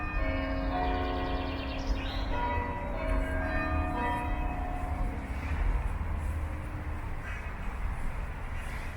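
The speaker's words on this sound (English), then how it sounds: "That was a short bell." A church tower bell in an Edinburgh churchyard by Princes Street Gardens rings a brief run of clear strokes that fade into steady outdoor city and traffic rumble, with no talk.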